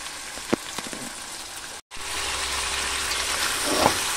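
Mutton with spices frying in a kadai, a steady sizzling hiss throughout with a brief dropout midway and a few small clinks early on.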